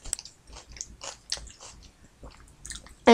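Crunchy food being bitten and chewed close to the mic, a series of irregular crisp bites and chews spread over a few seconds, ending in one sharp loud burst.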